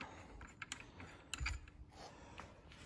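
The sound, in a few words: removing differential bolts with a wrench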